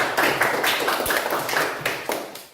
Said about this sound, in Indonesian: tepuk tangan untuk komentar